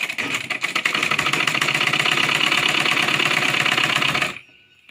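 A sewing machine stitches lehenga fabric in one rapid, continuous mechanical whir, loud and close, that runs steadily for about four seconds and then stops abruptly.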